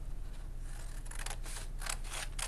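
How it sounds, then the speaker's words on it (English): Children's scissors snip through paper during a paper-weaving craft lesson, a string of soft crisp cutting strokes that grow a little stronger toward the end, quiet against a low steady background hum. "I'm going to again line up that scissor with that line. And I'm going to cut all the way through"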